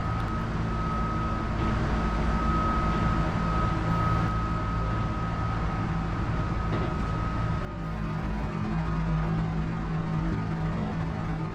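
Steady rumble of a regular express train running on rails near Kyoto, heard from inside as a continuous, even drone with a faint sustained tone, and no talking.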